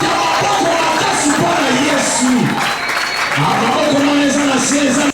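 A church congregation applauds and cheers for Jesus, loud sustained clapping and crowd voices filling the space, with a voice speaking over it.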